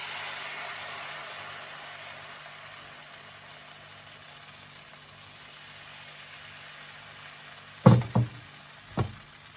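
Spinach and oats crepe batter sizzling in a buttered pan, a steady soft hiss that slowly fades, then a few sharp knocks near the end.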